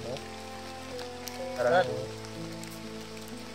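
Rain pours down in a steady, dense hiss that seems to be growing heavier, with a brief voice breaking through partway and soft tones lingering underneath.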